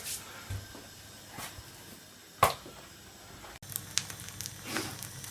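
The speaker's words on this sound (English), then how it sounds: "just stirring this all the time" Rendang is stirred in a pan as it cooks, with a low simmering hiss, a sharp scrape of the utensil and scattered soft clicks and squelches, heard close and alone.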